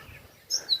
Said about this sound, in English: there's a small bird over there.